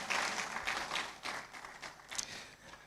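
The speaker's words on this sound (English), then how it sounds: "I think she deserves another round of applause." A lecture audience breaks into applause, a brief burst of many hands clapping that is fairly loud at first and gradually thins out.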